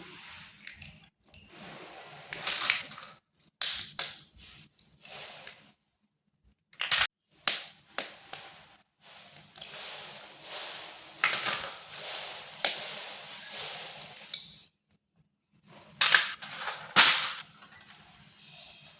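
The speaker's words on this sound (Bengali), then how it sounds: "ডিমগুলোকে একটা বোলের মধ্যে ফাটিয়ে নেব।" Washed eggs being cracked into a bowl for steamed egg curry, a run of sharp crisp cracks and clicks in short bursts separated by quiet pauses.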